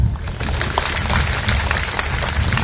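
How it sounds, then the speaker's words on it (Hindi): An audience at a happiness programme session claps together, a continuous, even wash of many hands applauding at moderate volume from start to finish. "ठीक है, बजाओ बजाओ ताली।"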